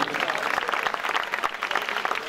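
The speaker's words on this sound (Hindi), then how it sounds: "इन सब के लिए भरपूर तालियां" Brief audience applause at a gathering, a fairly faint patter of many hands clapping at an uneven pace for a couple of seconds.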